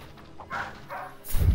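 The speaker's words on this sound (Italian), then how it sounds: "Ma chi è che abbaia? Ma è dei vicini." Neighbours' dog barking, a couple of faint distant barks followed by a louder thump, set against quiet background music.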